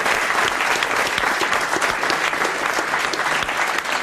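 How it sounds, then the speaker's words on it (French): Studio audience at a French radio game show breaking into loud, dense applause, continuous clapping filling the whole few seconds at close range. "vous l'applaudissez. Bravo. Bravo."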